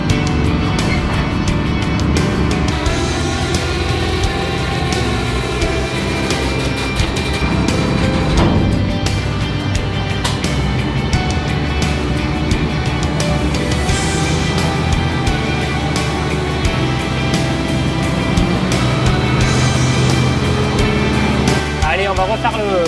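A Valtra T175 tractor runs steadily with its power take-off set to 540, a constant low engine drone throughout with someone talking over it.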